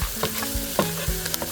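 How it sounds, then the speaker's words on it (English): Bacon, mushroom and turmeric rice being stirred as it fries in a pan, a close crackling sizzle with quick, repeated scraping strokes, with no voices. "We'll keep stirring it."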